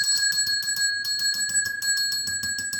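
A ring-for-service bell is struck rapidly over and over, bright metallic dings in a fast, steady rhythm, close and loud with no talking.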